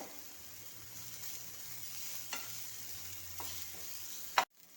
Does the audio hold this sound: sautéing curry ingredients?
yes